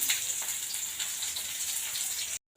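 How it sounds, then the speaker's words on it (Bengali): Dried red chillies fry in hot oil with a dense, even hiss and fine crackle held close and steady, then it stops suddenly just before the end. "আমি তেল দিয়ে দিলাম, শুকনো লঙ্কা দিয়ে দিলাম"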